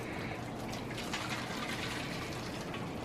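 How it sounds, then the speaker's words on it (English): Crab boil juice pours into a pan with a soft, steady liquid splash and gush, faint and continuous for a few seconds without talk. "Now I'm going to pour this into the pan."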